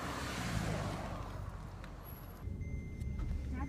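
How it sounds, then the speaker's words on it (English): A car pulls away and drives off outdoors, a broad low rumble and wind noise that fades somewhat over a few seconds, with no speech over it. "Oh, where Taylor's car goes away"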